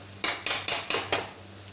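Onions sautéing in a pan for egg bhurji, with about five sharp metallic scrapes of a spatula against the pan in quick even rhythm, close, over a faint low hum, with no talking.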